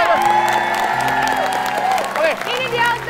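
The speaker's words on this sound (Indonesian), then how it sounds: "tepuk tangan." An audience at an Indonesian team word-guessing game show claps and cheers, with children's voices and whoops over steady applause, while a host talks over it and music plays.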